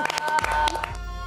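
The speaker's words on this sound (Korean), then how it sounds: "수고해주신 두 분께도 박수 부탁드립니다." An audience applauds at a pansori singing competition, a short burst of scattered clapping that quickly thins out and fades into a low room murmur.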